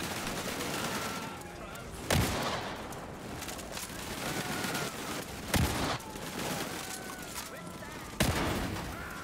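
Gunfire in the Land of War video game, with sporadic shooting and three sharp loud bursts spaced a few seconds apart over a busy battle background.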